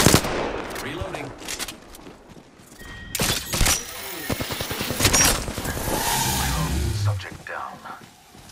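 Video game gunfire comes in bursts of rapid automatic shots and sharper single cracks, loud and close, mixed with brief radio-style voice callouts between the volleys.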